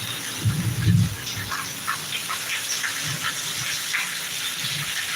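Steady summer downpour, a dense unbroken hiss of falling rain close by, with a few low thuds near the start and faint chirps through it.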